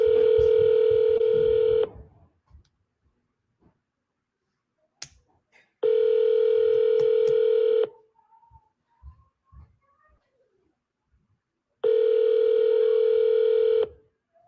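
A phone on an outgoing sales call rings back three times with long steady tones about two seconds each, separated by roughly four-second gaps of near silence with faint clicks.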